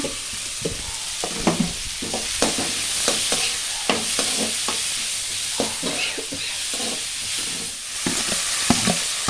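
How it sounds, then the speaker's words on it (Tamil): Onions sautéing in an oily pan on the stove for a Sunday non-vegetarian feast, a steady loud sizzle broken by repeated scraping stirs of a spatula. "அதிலே இந்த வெங்காயம் போட்டு கொஞ்சம் வதக்கிட்டு தக்காளி போடலாமா"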